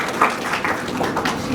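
Graduation audience applauding at a youth business program ceremony, a continuous, fairly loud crowd of clapping hands filling the short stretch without pause.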